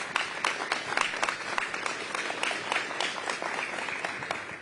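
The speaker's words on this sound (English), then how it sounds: "A round of applause for our friends at ATCO." Audience applause at an Invictus Games event with Harry and Meghan, honoring sponsor ATCO: a dense, steady wash of many hands clapping together, sustained and fairly loud for the whole stretch.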